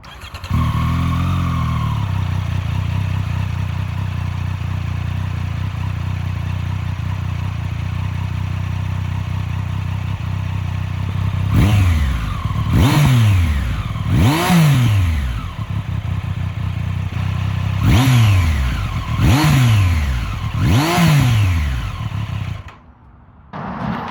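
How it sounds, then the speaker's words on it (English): A 2023 Triumph Street Triple 765 RS motorcycle idling close by, then its exhaust revved sharply several times in quick blips, each rising and falling back to a loud idle. "Let's get an exhaust sound,"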